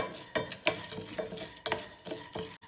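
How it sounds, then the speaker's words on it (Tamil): Lentils roast in a pan over a low flame while a spoon or spatula stirs them in repeated scraping strokes. The sound is close and fairly quiet, with dry rattling grains and light metallic scrapes and no voices. "மூணையும் அப்படியே அடுப்பை குறைச்சி வச்சு நல்லா வறுத்துக்கணும் வாசம் வர்ற வரைக்கும்"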